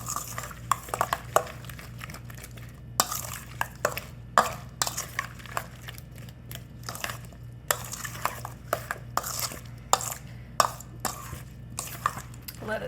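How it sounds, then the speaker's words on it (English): A spoon stirs seasoned-salt-coated Armenian cucumbers in a bowl, giving soft, irregular scraping and clinking taps repeated steadily at close range, fairly quiet over a low steady hum. "And then just stir it all up."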